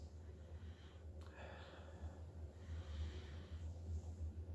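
A single close sniff of a foamy glass of home-brewed brown ale, a quick breathy inhale near the microphone over a low steady background hum.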